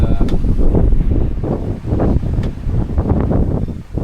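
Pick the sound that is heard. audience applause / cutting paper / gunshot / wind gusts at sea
wind gusts at sea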